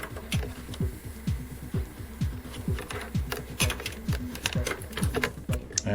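A USB floppy drive writes a DOS disk image, giving a steady mechanical chatter of rapid, evenly repeating head-stepping clicks and buzzes, close and moderately loud, with no talking.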